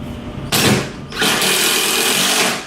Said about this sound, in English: Drill it in one end,